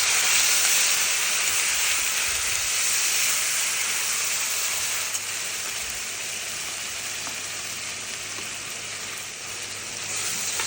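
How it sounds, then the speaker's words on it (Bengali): Onion, ginger and garlic paste sizzles in hot oil with a steady, bright hiss that fades a little midway, close and continuous with no talking. "একবারে পেঁয়াজ আদা রসুনের বাটাটা দিয়ে দিচ্ছি।"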